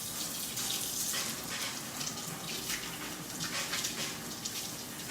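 Cold water runs steadily from a kitchen tap in a home kitchen, a continuous close hiss and splash with no break and no talking over it.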